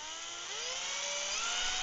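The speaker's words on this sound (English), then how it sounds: "So I put in a 10mm drill bit, and we'll go ahead and be really gentle" A 10mm drill bit bores gently into a vintage wooden Pflueger Mustang fishing lure, giving a steady high-pitched whine that climbs slightly in pitch as it cuts, continuous and close with no talking.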